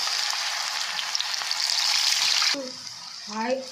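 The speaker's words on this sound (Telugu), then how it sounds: "ఇలా ఆయిల్ బాయిల్ అయిన తర్వాత ఇందులో స్వీట్ కార్న్ వేసుకోవాలి." Sweet corn kernels frying in hot oil for corn chaat, a loud, close, bubbling hiss that runs steadily and then cuts off abruptly, followed by a brief voice.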